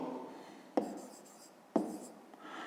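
Pen or marker writing a math formula by hand on paper or a board during a fifth-grade lesson, a soft continuous scratching broken by two sharp taps about a second apart, close and quiet with no talk.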